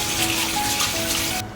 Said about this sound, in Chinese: 放在水龙头下面，用清水把残留的一些泡水洗干净